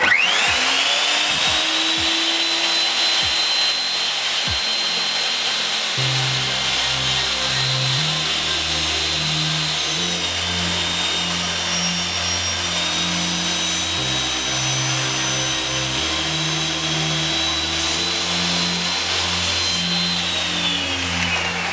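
A Ronix miter saw cuts through wood with a high motor whine throughout, while a lower, uneven grinding from the blade in the wood begins partway through and carries on at close range, with no voices.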